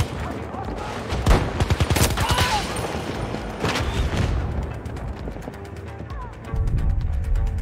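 Revolver fire in the shooter Battlefield 2042, a burst of loud close gunshots stacked with other battlefield gunfire and booms, fairly dense and continuous through the scene, with faint talk underneath.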